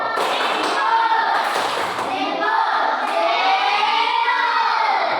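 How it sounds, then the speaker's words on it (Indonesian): Children clapping their hands together in a classroom, a loud, steady patter of many small hands lasting several seconds. "Tepuk tangan."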